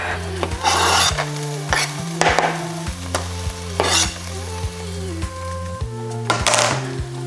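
Onion and garlic sizzle in a pan as a utensil stirs them, giving loud frying crackle with repeated scraping strokes and clanks against the metal, close up, with a steady low hum underneath.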